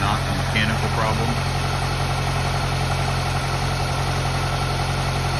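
A 2008 Ford 5.4 3V V8 with an ignition misfire idles nearby, giving a steady, unbroken low hum at an even level, with a brief voice-like sound near the start.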